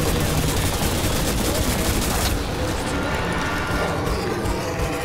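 Dense, continuous gunfire in Crysis 2 fills the whole stretch, loud and close, with overlapping rapid shots that thin slightly after the first couple of seconds.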